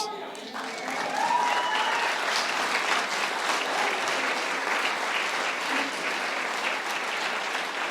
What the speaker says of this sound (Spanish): Deberían dar un aplauso a Dios.